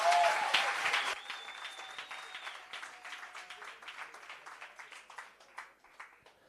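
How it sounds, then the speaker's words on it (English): Audience at a workshop and expo applauding, starting as a full burst of clapping with a whistle-like tone, then thinning into scattered, individual claps that fade out over several seconds. "One more time, ladies and gentlemen, a round of applause."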